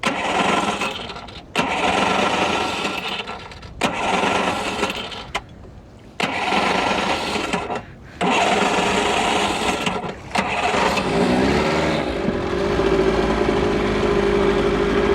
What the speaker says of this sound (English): I really hope that motor starts up and gets me back to where I need to go.